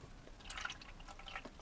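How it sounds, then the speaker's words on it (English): Water poured into the tank of a Life Basis ultrasonic cleaner, a soft steady trickling and splashing that runs through the short moment, close and fairly quiet. "12 ounces of water in here."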